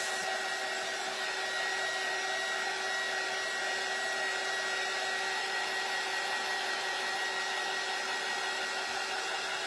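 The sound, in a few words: hair dryer drying a craft kit door hanger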